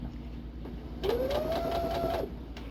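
A domestic sewing machine stitches slowly while making bowl cozies, giving a short run of just over a second with a rising motor whine and soft rhythmic needle pulses over a quiet room hum.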